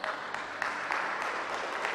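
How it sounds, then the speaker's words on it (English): Teammates cheer and clap at the back of a school table tennis match between two primary schools, a short, fairly faint burst of applause with noisy crowd reaction. "a big cheer there from his teammates at the back"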